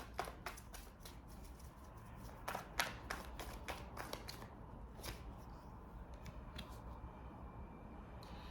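A deck of tarot cards being shuffled by hand, with a run of crisp riffling snaps and flutters early on that thin into quieter, sparse card rustles over a steady low background hum.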